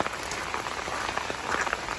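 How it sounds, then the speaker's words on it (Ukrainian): Heavy rain pours down during a major storm in South Carolina, a steady, close hiss of drops drumming on surfaces with no voices. "А у нас в теплих, тепліших краях просто великий дощ."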